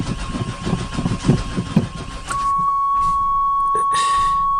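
A 1996 Chevy Tahoe engine cranks in a rough rhythmic churn, then catches briefly with a few sputtering fires before settling into a steady hum, close by with a high electronic tone running through it.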